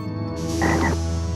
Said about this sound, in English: he's merely aroused a welcoming committee of subterranean frogs